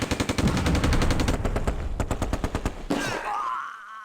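Rapid bursts of machine gun fire in the WWII strategy game Close Combat: A Bridge Too Far, loud close rattling volleys that break off into a single sharp crack and a fading ringing tail, with no talk.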